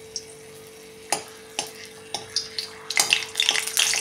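Two small bay leaves fry in hot oil for a Kolhapuri white rassa, giving a close, continuous sizzle punctuated by sharp clicks of a spoon stirring against the pan, building louder toward the end.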